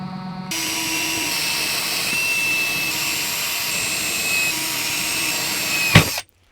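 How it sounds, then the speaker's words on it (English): A power drill whines steadily at high speed, loud and close, drilling drain holes in stainless steel, running continuously before a final clunk and sudden stop. "I had to drill a set of holes which act as a drain"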